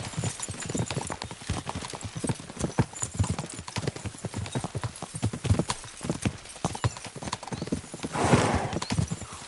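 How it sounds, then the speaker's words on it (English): Horses trotting and neighing in the medieval game Kingdom Come: Deliverance II: a close, continuous clip-clop of hooves with a whinny near the end and faint voices now and then. "We should spur the horses on."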